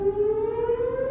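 A City of Dallas outdoor warning siren, often called a tornado siren, sounds alone as one loud sustained wailing tone that rises slowly in pitch.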